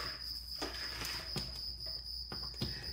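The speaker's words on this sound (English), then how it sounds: "that cricket's louder than shit" A single cricket chirps loudly and steadily in a quiet indoor workshop, with a sustained high-pitched trill and a few faint knocks in the background.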